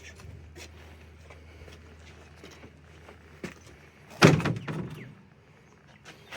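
A door on a 3D-printed small vehicle, recently fitted with a new hinge, swings shut with one close, sharp thunk and a short rattle after a stretch of quiet background.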